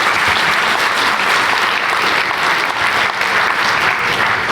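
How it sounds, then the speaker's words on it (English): Dense, sustained applause from a keynote audience at a product announcement event, steady and loud throughout with no talk over it. "A huge round of applause for Liang here."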